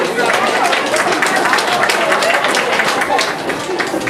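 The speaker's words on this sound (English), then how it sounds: "Give Peggy a nice round of applause there" An audience at a traditional music band contest claps for a raffle winner, a dense, even wash of many hands throughout, fairly loud, with a voice talking over it.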